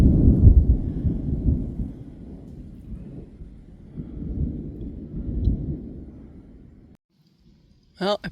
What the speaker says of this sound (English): There's just been lots of thunder